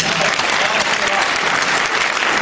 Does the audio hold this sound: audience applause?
yes